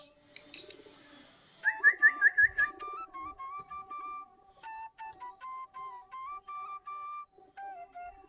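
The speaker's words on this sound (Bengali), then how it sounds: "সবগুলা দেশি গিরিবাজ কবুতর" Native Giribaz pigeons, a local Bangladeshi breed, drinking and feeding at midday give bright chirps and steady sustained whistling tones, fairly close and clear, with no talking.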